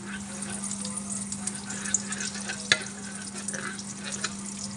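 Laham meat fries on a tawa with a steady, close sizzle and crackle, a low constant hum beneath and one sharper pop midway.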